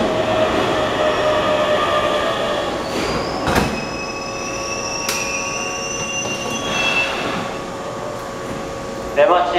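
A Japanese semi-express commuter train pulls into platform 1 of a station with a loud, steady rumble, long high wheel squeals and brake hiss. A faint indistinct announcement voice sits underneath.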